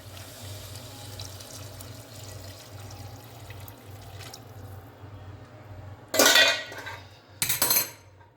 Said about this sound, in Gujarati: ગરમ તો આપણે હવે પાણી ઉમેરીશું